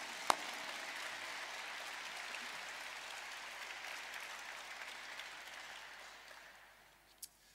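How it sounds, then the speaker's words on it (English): A crowd gives a sustained round of applause at a Tees Valley live event, a broad, even wash of many hands clapping at moderate distance that fades gradually toward the end, with one sharp clap near the start and another at the finish. "So please, let's give them all a round of applause."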